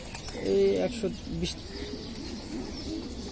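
Pigeons coo softly in a loft housing about two hundred birds, a low murmuring close by, while people talk over them.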